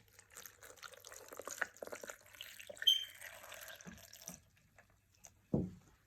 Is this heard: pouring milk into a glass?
yes